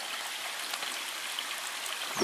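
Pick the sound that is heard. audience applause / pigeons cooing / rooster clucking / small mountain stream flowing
small mountain stream flowing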